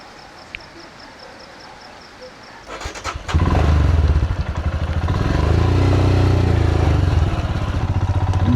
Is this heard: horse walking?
no